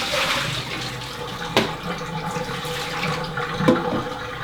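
Water drains from a soaked cooking plank for salmon, a steady rushing pour with a couple of brief splashy surges, close and alone without talk.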